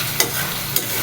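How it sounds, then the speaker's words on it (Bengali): Washed cabbage is stirred into cooked chicken in a frying pan, with a close, loud sizzle and two brief scraping strokes of the spoon. "এখন আমি ধুয়ে রাখা বাঁধাকপিগুলো দিয়ে দেব চিকেনের মধ্যে"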